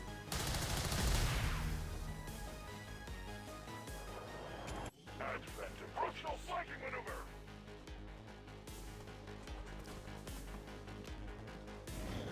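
Gunfire in the XCOM 2 strategy video game, with a burst of shots at the start and scattered cracks later, set under game music and ambient effects.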